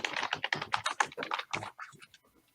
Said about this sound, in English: I can hear somebody's typing.